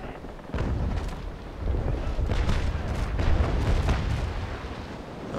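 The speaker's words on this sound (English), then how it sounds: "I will fire with my starboard side" Ship cannons of a sailing frigate firing a broadside in the Naval Action naval game, a dense run of heavy booming blasts that rumbles on for several seconds, loud and close.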